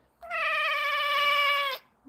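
An unhappy cat gives a single long, drawn-out meow close by, steady and tonal for about a second and a half, then falls silent.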